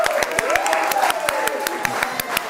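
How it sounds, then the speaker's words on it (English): Audience clapping at a boot camp seminar: dense, steady applause with sharp hand claps close by, mixed with crowd noise and a rising musical tone over the short stretch. "Why am I clapping so hard?"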